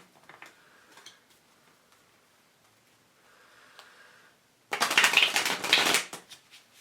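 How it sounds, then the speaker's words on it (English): A deck of cards, likely tarot or oracle cards for a pick-a-card reading, is shuffled by hand: soft light taps and rustles first, then a loud, close burst of riffling flutter lasting about a second. "We're going to really shuffle this one."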